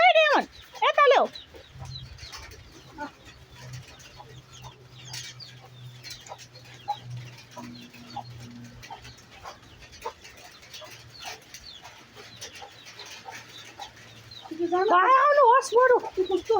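A mother hen and her chicks cluck softly in a farmyard, with a steady low clucking running through the middle while people talk loudly at the start and end.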